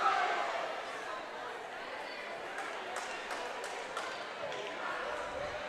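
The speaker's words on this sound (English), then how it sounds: "Sparta is getting cheered. They're getting rowdy over there. A little cheering competition." Rowdy high school volleyball crowd at a Red Bud vs Sparta match, dense cheering and shouting with scattered sharp claps and ball bounces, steady and loud throughout.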